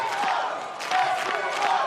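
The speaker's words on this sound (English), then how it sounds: "the crowd's chanting Eskimo" Crowd at an American Ninja Warrior qualifying course chanting in rhythmic bursts, a loud, distant-sounding mass of voices rising and falling in repeated shouts across the arena.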